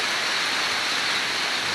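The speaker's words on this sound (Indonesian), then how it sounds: "hujan deras." Heavy rain falls on a coffee plantation as a dense, unbroken roar of close, loud hiss with no talking.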